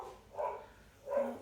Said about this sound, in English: oh, now the dog's barking.